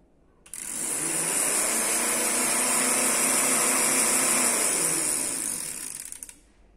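A small car motor fitted to a homemade electric bike spins up with a steady high whirring whine, holding loud and even for several seconds before winding down, with no talk over it.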